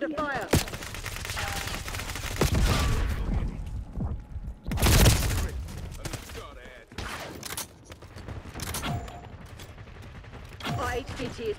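Gunfire and bursts of automatic weapons in a Call of Duty match, with heavy volleys around the middle and later shots scattered through, mixed with game sound effects and intermittent voice callouts.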